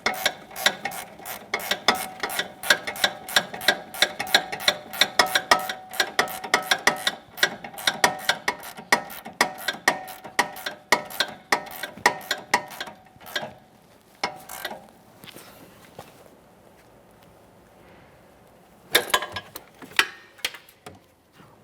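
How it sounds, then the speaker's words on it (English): Rapid metallic ratcheting from a wrench snugging the sway bar link nut on a 2014-2019 Toyota Corolla, dense repeated clicks for about thirteen seconds, then a pause and a short final burst, close and fairly loud with no talking. "just make sure it's nice and tight using your wrench"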